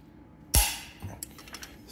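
A torque wrench gives one sharp, loud snap while tightening bolts during crankshaft and cylinder installation on a John Deere 4020 tractor engine, followed by faint clicks and handling sounds.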